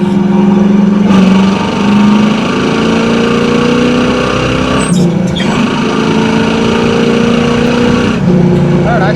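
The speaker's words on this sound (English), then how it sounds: "All right, we'll do a little third gear pull here." A 1976 Pontiac Trans Am V8 pulls hard in third gear, its engine note rising in a steady climb with a brief gear change partway through, loud and close from inside the car.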